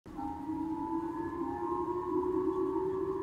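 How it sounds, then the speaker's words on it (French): Missile alert sirens in Hokkaido, Japan, wail in a steady, sustained tone that slowly rises in pitch, fairly loud and continuous, with no voices. "Les sirènes de missiles ont secoué les habitants de l'île septentrionale d'Hokkaido au Japon jeudi matin"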